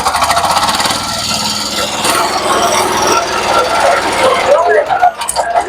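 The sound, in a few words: mini tractor diesel engine running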